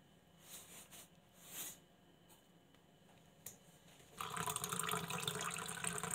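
Blended aloe vera juice pours into a glass, a soft liquid trickle building to a steady, fuller splashing stream in the last couple of seconds, fairly quiet and close.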